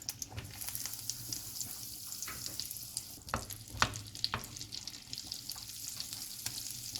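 Butter and olive oil sizzle steadily in a hot pan, a continuous close frying hiss with a few sharper crackles and spatters, no voices over it.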